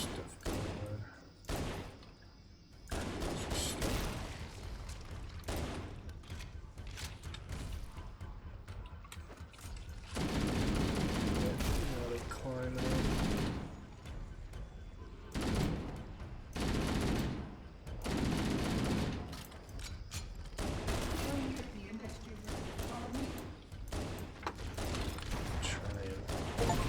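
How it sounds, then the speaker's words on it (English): Shotgun blasts against the Flood in a Halo game, heavy booming shots in irregular bursts amid chaotic combat noise, fairly quiet overall, with a player talking in between. "Shotgun killing 100 flood, delicious brains."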